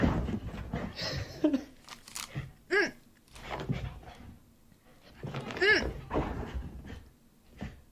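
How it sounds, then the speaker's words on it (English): A husky in a shower gives repeated high, wavering whimpers and yelping cries with a few barks, loud and close, in bursts across the whole stretch. "huskies are cute, but they're little demon dogs"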